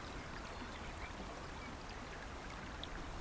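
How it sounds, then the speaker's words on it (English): Flowing stream water in the hunting video game Way of the Hunter, a steady rushing wash filling the background with faint trickles, no talking. "right now the water's still loud"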